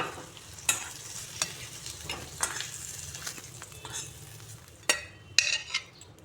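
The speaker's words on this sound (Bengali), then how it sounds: "5টি মাছের বড়ি ভেজে নিচ্ছি" Fish dumplings (bori) frying in a pan, a soft steady sizzle broken by a few sharp clinks and scrapes of a utensil stirring, close by with no talking.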